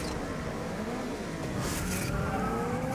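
Race car engines rumble and roar steadily at the start of a race on the Nevada track in Asphalt 8 Airborne, with a Cadillac ATS in the field and brief tire noise over a continuous dense engine drone.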